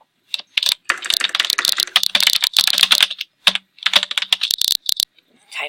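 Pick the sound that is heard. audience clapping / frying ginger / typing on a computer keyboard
typing on a computer keyboard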